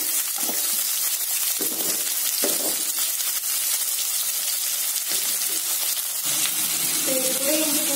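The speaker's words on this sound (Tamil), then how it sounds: "வெங்காயத்தை சேர்த்துக்கலாம். நல்லா வதக்கி விடுங்க." Onions sauté in a hot oiled pan for cabbage manchurian, giving a steady close sizzle with occasional stirring scrapes.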